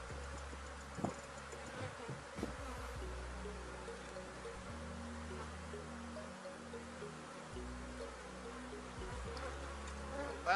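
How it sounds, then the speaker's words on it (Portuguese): A mass of honeybees drones steadily during a hive split, a low, continuous buzzing hum with a few faint knocks and taps from handling the hive equipment. "Tem muita abelha aqui, não custa nada verificar."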